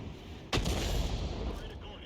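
Artillery in a strategy game fires a sharp, heavy report that rings into a long rumbling tail, one close shot standing alone over constant background game noise.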